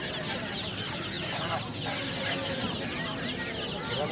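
Chickens and ducks at a busy wholesale poultry market, with continuous overlapping clucking from many birds close by and market background noise throughout.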